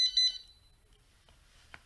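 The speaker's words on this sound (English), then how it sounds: "So this is sound for fire alarm, which we need to reset by pressing" A demo home alarm system sounds its fire alarm: a short, loud, bright electronic beeping burst right at the start, followed by near silence and a faint click.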